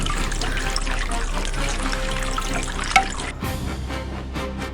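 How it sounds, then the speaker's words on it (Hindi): Water runs steadily from an open tap inside a house, a constant rushing stream that shifts and thins toward the end, with a small knock partway through. "यहाँ का पानी किसने खोल दिया?"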